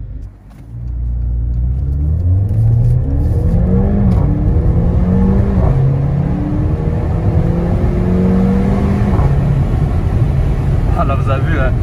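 A Mercedes CLA45 AMG 4matic accelerates hard on the road, its engine rumbling and climbing through several rising gear pulls, loud and close from inside the car with occasional talk.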